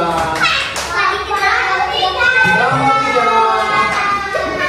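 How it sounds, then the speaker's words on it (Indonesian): A group of schoolchildren in a Pancasila classroom lesson chant loudly together while clapping their hands in rhythm, voices dominating over the claps. "Tepuk tangan kelompok 2"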